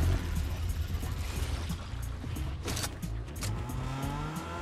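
Car engine in the Fortnite video game, a steady low drone with rising revs and faint tire noise running throughout, with some game sounds on top.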